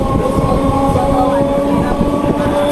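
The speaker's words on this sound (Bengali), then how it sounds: "এক্স্যাক্টলি 9টা বাজে এই কোন্নগর ট্রেনটি ছেড়ে দিল।" A local commuter train pulls out of Konnagar station, a loud close rumble from inside the carriage with rattling wheels, steady droning tones and faint squeals throughout.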